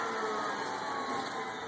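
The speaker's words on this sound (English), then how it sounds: "It's still vacuuming. Turn the vacuum off." The vacuum pump of a manual 18x24 skin packaging machine runs as a steady, loud whirring hum with a constant tone and no pauses.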